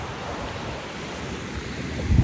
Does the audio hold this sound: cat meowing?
no